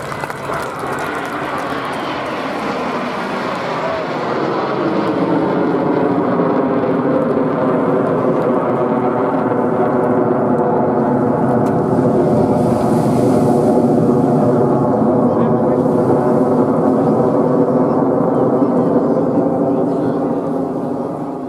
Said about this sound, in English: This is Mark Petrie and the Strikemaster.